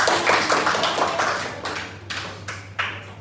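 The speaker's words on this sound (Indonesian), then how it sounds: "Nah, kita beri tepuk tangan dulu untuk anak-anak." Third-grade children in a primary school classroom clap together, a scattered burst giving way to a few sharp, evenly spaced unison claps, close and moderately loud.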